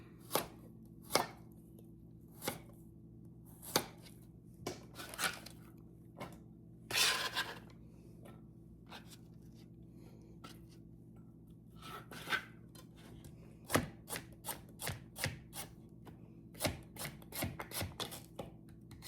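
A knife chops an onion on a cutting board in a home kitchen, giving sharp, separate knocks at an uneven pace that speeds up toward the end, close and fairly quiet, with no voices.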